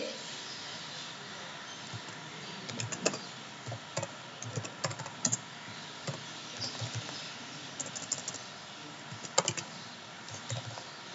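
Someone types a product name, a soft-toy doll, on a computer keyboard while making a product listing. Irregular bursts of light key clicks sound over a steady faint background hiss.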